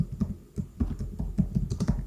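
Keys tapping on a computer keyboard while a memo entry for cash service revenue is typed into MYOB accounting software, an irregular run of soft muffled clicks close by with no talking.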